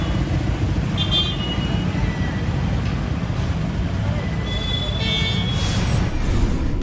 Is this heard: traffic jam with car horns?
yes